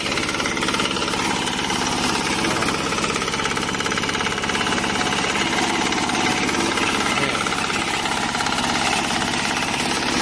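A rice harvester tractor runs nearby, its engine producing a steady, loud, rapid knocking chatter without pause for the whole stretch.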